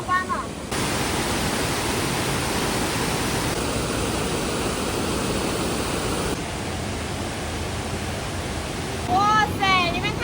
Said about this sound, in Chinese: 也是从山上流下来的瀑布